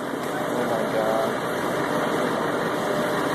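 A vehicle engine idles steadily and fairly loud for a few seconds while an exhaust sample is taken, a continuous low rumble with no clear speech.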